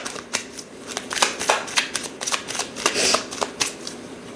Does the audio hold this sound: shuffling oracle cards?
yes